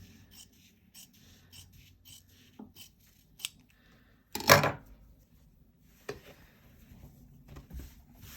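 Scissors snip through fabric bias binding while sewing a jacket, with a few quiet scattered cuts and one louder, longer slice in the middle, close and otherwise quiet.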